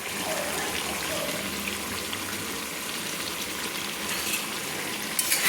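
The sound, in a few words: chicken with cashew paste stirred in pan on low flame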